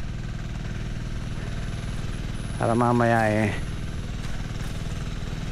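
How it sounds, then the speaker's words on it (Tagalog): A machine engine hums steadily and continuously, close by, while someone speaks briefly over it. "laging umaandar yung makina"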